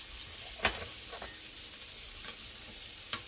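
Steak frying in a pan with butter and garlic, a steady soft sizzle with a few sharp clicks or taps spaced about half a second apart, quiet and close.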